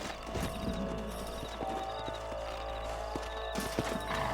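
Horse hooves clip-clopping in the video game Red Dead Redemption 2, a close run of uneven hoof beats with a faint whinny and background game ambience.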